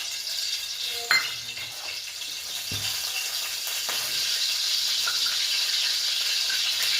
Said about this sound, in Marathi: नंतर तेल टाकायचं.